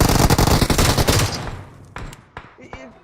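Automatic weapon fire in PUBG Mobile, a loud, rapid burst of shots for over a second, then a few scattered single shots fainter in the distance with brief voices between them.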